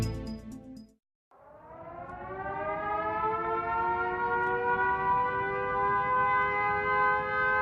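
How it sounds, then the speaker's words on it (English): A World War II air raid siren wails steadily after a brief pause, its rising tone holding loud and sustained, with a faint burst of other sound at the very start. "Sirens sound the alert."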